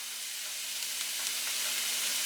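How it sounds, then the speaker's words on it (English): White wine sizzles steadily in a hot pan for a creamy mushroom pasta, a dense, continuous close-up hiss with faint crackles throughout and no talking. "You might hear it sizzling now."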